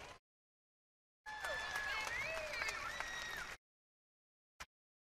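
Crowd applause at a 2024 NCAA air rifle championship awards ceremony, a couple of seconds of steady clapping that cuts off abruptly, framed by silence.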